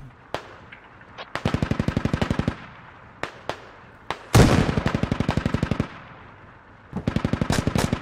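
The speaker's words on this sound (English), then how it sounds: "Lots of rounds being used here by the suppression squad." Automatic gunfire from a suppression squad in the video game Squad, several long rapid bursts of loud machine-gun fire separated by single sharp shots and short pauses.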